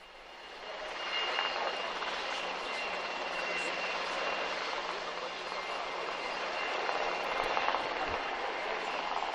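Helicopters flying over the closing ceremony of the Bahrain Forum for Dialogue, a broad steady whirring engine roar that builds in and holds loud throughout, with faint background voices.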